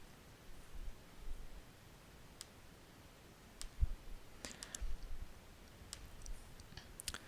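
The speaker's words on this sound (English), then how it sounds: "So I'm simply left clicking on those terms that I want to include as part of my note." Left clicks of a computer mouse on a doctors' office workstation while selecting terms for a patient note, heard as faint, sparse, sharp clicks scattered irregularly over quiet room hiss.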